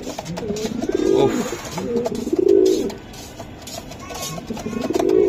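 Racing pigeons coo close by in repeated throaty rolling bursts, roughly every second and a half, over a faint background murmur.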